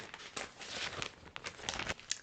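A plastic zipper bag crinkles and rustles in a run of close, irregular crackles as scrapbook supplies are packed back into it.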